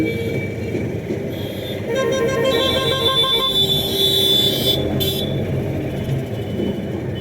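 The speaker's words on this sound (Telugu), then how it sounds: "అటు హార్న్ కొట్టి ఇటు హార్న్ కొట్టి" A Mahindra Bolero truck horn honks in several blasts, some long and sustained, over the rumble of road traffic and engines.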